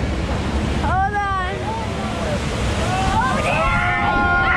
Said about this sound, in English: There's gonna be a splash.